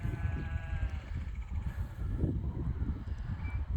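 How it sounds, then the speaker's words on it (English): Goats on a farm bleating near a barn, a few wavering calls over steady low wind rumble and animal movement, with no talk. "He's gonna go get the goats."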